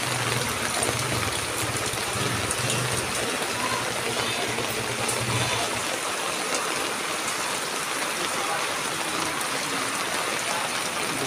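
Steady rushing of floodwater flowing continuously after overnight heavy rain, a dense broadband wash of water with rain noise, constant and fairly close, no voices.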